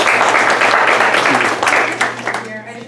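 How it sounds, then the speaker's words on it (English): A packed banquet-hall audience at a scholarship award dinner applauds, a dense wash of clapping that stays steady and then tapers off, with some voices mixed in. "So let's give Michaela a big round of applause."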